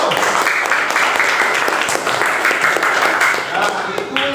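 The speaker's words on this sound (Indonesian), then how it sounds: "Beri tepuk tangan dulu." A classroom full of students claps together in a dense, sustained burst that carries on for several seconds, with a voice speaking over it.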